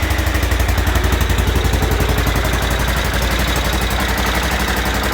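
An Aprilia Pegaso Cube motorcycle engine idles steadily up close, a rapid, even pulsing putter that holds constant throughout with no voices.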